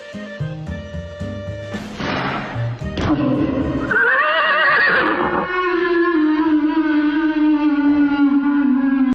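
A horse neighs loudly and whinnies in a storybook scene of a guard mounting to ride into a forest, followed by a sustained rumbling tone that suggests it setting off, the neigh rising clearly over a busy music-like background.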